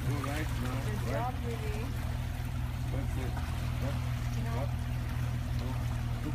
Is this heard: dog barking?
no